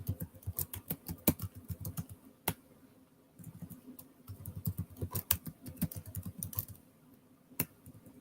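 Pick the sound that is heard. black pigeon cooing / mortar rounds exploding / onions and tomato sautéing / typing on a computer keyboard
typing on a computer keyboard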